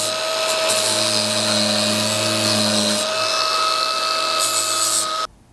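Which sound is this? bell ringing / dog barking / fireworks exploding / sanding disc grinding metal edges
sanding disc grinding metal edges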